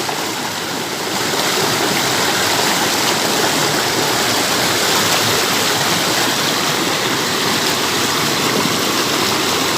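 A steady, loud rush of flowing stream water fills the whole stretch without a break, close by and with no voices.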